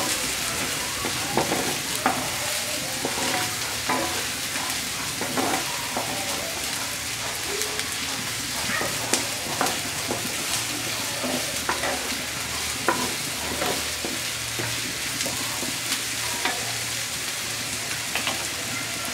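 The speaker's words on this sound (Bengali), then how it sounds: "পেঁয়াজটা কিছুক্ষণ ভাজবো।" Chopped onions fry in a hot pan with oil, giving a steady crackling sizzle, punctuated by the scrape and clatter of stirring, close up and with no voices.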